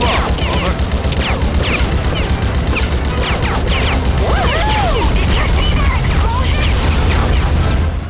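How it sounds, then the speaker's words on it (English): Loud, dense soundscape of a flight combat video game, booming explosions and rapid gunfire, with distorted voices talking over the chaotic noise. "Yes, Betty, I did see that explosion."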